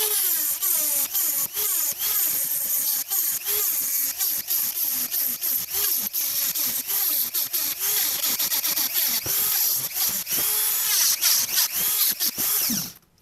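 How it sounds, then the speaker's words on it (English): A small Dremel rotary tool cuts a metal racing seat bracket on a 240SX drift car project, a loud high whine broken into many short bursts and pulses as the bit bites, stopping abruptly at the end. "And I basically did that by just taking a little Dremel rotary tool to it."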